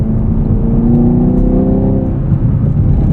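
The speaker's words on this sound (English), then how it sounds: "There's some pretty aggressive pops and burbles here with this SS1LE." A 2023 Chevrolet Camaro SS 1LE V8 exhaust drones up close, its deep engine note rising and falling slightly in pitch without pause, alone with no voices.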